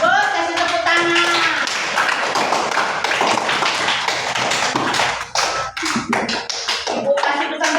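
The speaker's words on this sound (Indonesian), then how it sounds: "Bagus, kasih tepuk tangan" Schoolchildren in a classroom clap hands loudly in a rapid, lively burst lasting several seconds, with a few voices calling out and a teacher speaking near the end.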